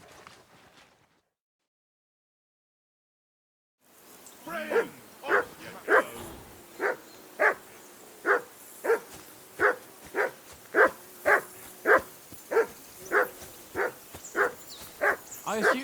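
A dog barks repeatedly in Kingdom Come Deliverance 2, a steady run of sharp, evenly spaced barks close by after a few seconds of near silence, with faint background ambience.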